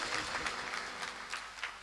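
Audience clapping at a live Rajasthani comedy show, a quiet, distant patter of many hands with a few louder bursts, no voices over it.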